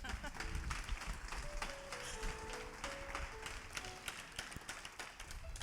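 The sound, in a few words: applause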